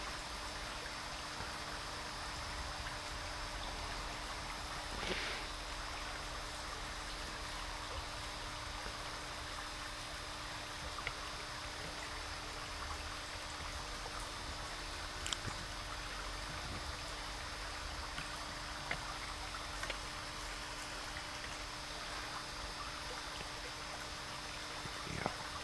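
Water trickles weakly from a pipe with low pressure on a homestead, a faint, steady hiss of flow continuing unbroken for the whole stretch with a few small splashes.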